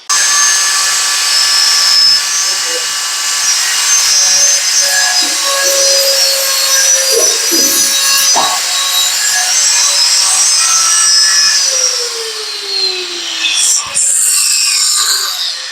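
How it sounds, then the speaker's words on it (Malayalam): A power saw fitted with a cutting blade slices through a metal channel, giving a loud, steady, high whine with a grinding rasp. The whine runs unbroken for about twelve seconds, then drops in pitch and tails off near the end. "നമ്മള് ഈ ബ്ലേഡ് ഇട്ടിട്ട് ചാനൽ കട്ട് ചെയ്യുന്നതാണ്."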